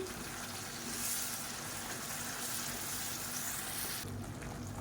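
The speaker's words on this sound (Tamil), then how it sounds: "ஒரு மூணு தக்காளி மிக்சியில் அடித்து வச்சுருக்கேன் அதை சேர்த்துக்கலாம் இப்போ இது நல்லா வதங்கட்டும்" Blended tomato sizzling in a pan with onion and garlic for fish curry, a steady low hiss of frying with faint stirring, fairly quiet and continuous without talk.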